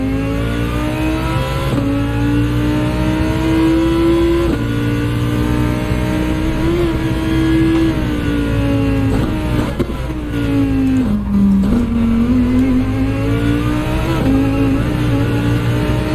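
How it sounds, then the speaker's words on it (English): Lamborghini race car engine in the Gran Turismo video game, a loud, steady, close drone sustained throughout, its pitch holding level then dipping and climbing again as the car shifts and accelerates on track. "Was doing my best laps in the Lambo right there at the end"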